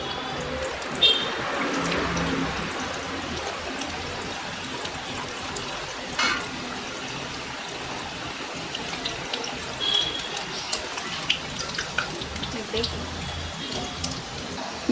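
Mutton kola urundai meatballs fry in hot oil, a steady close crackling and bubbling sizzle with scattered pops throughout.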